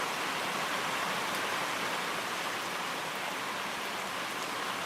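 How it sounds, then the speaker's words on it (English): Rain drumming on a metal building, a dense, even hiss of countless drops that stays steady and moderately loud for several seconds with no voices. "Yeah, we need the rain."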